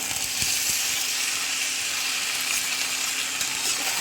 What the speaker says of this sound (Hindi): थोड़ी देर गोश्त को तलना है